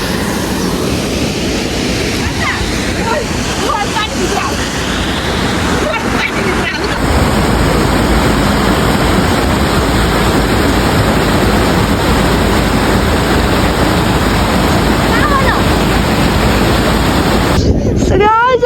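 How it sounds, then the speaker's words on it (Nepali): The Bhairabkunda waterfall in Sindhupalchowk, falling into a deep pool, roars as a loud, steady broadband rush from close by for the whole stretch. "यो झरा चाहिँ एकदम दामी रहेछ"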